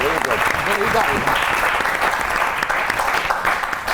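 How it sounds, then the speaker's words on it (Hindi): An audience applauds warmly at a stage show, steady clapping of moderate loudness with voices and cheering mixed in beneath it. "अरे वाह, बहुत सी ताली होनी चाहिए।"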